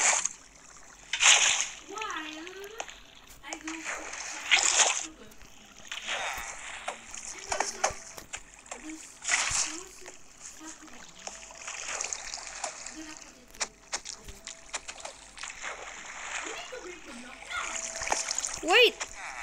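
Video game water splashes repeat in One Block survival, with irregular bursts over roughly twenty seconds as a voice talks and exclaims throughout.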